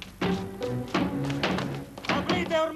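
Heavy fists pounding on a door in a dramatic indoor scene, several irregular loud thumps and knocks in quick bursts, with raised voices shouting between them.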